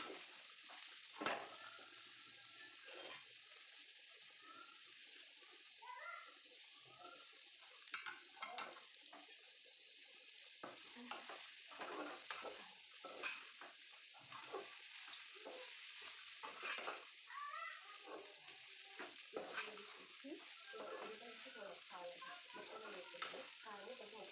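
Okra curry stirred in a pan, with repeated spoon scrapes and soft clatter over a faint continuous sizzle, steady and close throughout.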